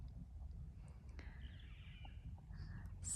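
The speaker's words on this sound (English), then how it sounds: "So many beautiful birds to hear." Faint bird calls, a few scattered chirps and caws, over a soft low outdoor rumble with no talking.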